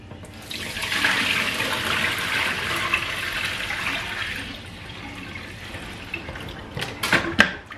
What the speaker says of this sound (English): you just need hot water first to wash it